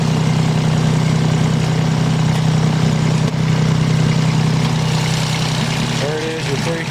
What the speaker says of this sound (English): Let's pop the hood and look at the engine.